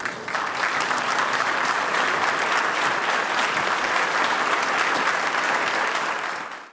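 Sustained applause at Brazil's Palácio do Planalto as President Dilma Rousseff and the widow Dona Vera receive architect Oscar Niemeyer's body, a dense, steady roar of many hands clapping nearby before fading out.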